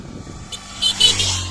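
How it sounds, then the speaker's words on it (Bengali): Vehicles on the Marine Drive road near Teknaf beach, Cox's Bazar, Bangladesh: a quiet start, then a car passing close by with a rising engine and tyre rush in the second half. "বেশ কিছু গাড়ি আছে,"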